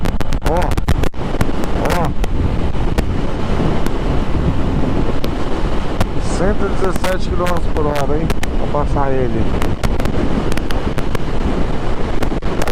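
Strong wind roars and buffets steadily against a motorcycle riding at highway speed, a loud continuous rush with someone talking over it.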